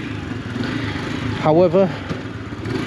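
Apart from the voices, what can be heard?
AJS Tempest Roadster 125 motorcycle engine running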